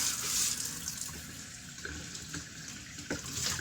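A kitchen tap runs steadily into the sink, rinsing a cleaned counter surface and scrubber after bleach and dish soap, a continuous close water rush with slight splashing variations throughout.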